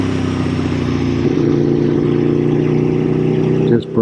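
An Aprilia Tuono motorcycle engine burbles loud and close while riding, a steady deep throbbing rumble that briefly dips near the end.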